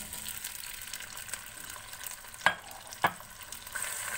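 Beef sizzles in a pan after being added, a steady low hiss of frying with two sharp clinks of a utensil against the pan, close and fairly quiet, no voices.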